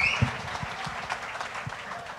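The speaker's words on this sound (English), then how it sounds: "And give them a round of applause." Applause from an audience at a 4-H county fair farmer awards ceremony, a steady patter of clapping at moderate level with a few louder claps, fairly distant and filling the whole stretch.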